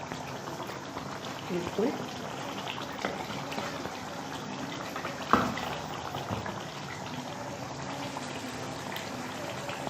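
A pot of khoya korma simmers gently on dum, with soft bubbling and a faint liquid hiss throughout, one sharp clink partway, and a brief voice speaking.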